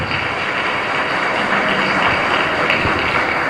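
A church congregation applauding at the end of Mass in the Sagrado Corazón de Jesús chapel in Ñemby, a dense, steady wash of clapping held at an even loud level throughout.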